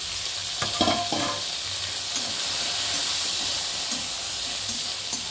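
Chopped eggplant sizzles and crackles in hot oil with onion and garlic that have already been fried, a steady hiss throughout and a few clacks from stirring near the start.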